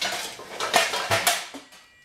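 Pots and pans clattering in a kitchen, with a steamer pot among the cookware: a series of sharp metallic clanks and scrapes in an irregular rhythm, loud and close, with no talking.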